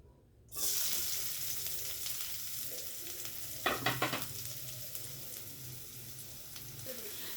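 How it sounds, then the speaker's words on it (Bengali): Chopped onion and fish hitting hot oil in a pan, bursting into a loud continuous sizzle that holds steady, with a brief cluster of stirring clatter midway. "পেঁয়াজ কুচো আর মাছটা আমি একসঙ্গে ভেজে নেব"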